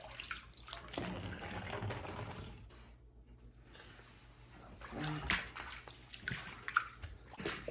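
A hose from a transfer pump fills a bucket while a flooded basement is being drained, giving a steady close rush and splash of pouring water that briefly drops away before resuming louder.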